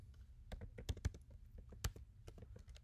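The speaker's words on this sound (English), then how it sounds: "But for right now, you gotta type it in." Someone typing a project ID on a computer keyboard, a quiet, close, irregular series of sharp key clicks with brief pauses between taps.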